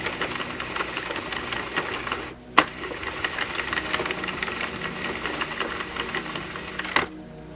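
A Sentro knitting machine cranked with yarn, a steady close mechanical clatter of needles that continues with one brief pause and a sharp click partway through.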